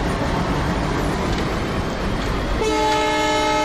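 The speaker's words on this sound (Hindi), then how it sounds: "सेकंड हॉर्न हमने बजा दिया" A long, loud train horn sounds near the end over steady rumbling rail noise, in Microsoft Train Simulator (MSTS) on an Indian Railways express between Bangalore and Mysore.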